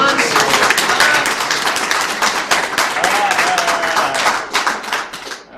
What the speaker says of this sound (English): All right, don't clap, just throw money.